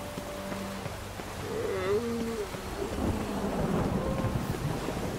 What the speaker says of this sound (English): I like that he's just standing out here in the rain